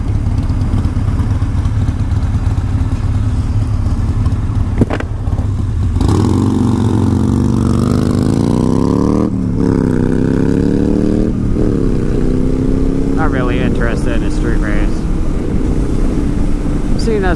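A Kawasaki street motorcycle running nearby on an old trail, a loud steady engine drone that rises and falls through several revs, with the pitch sweeping up and down, and voices faintly under it.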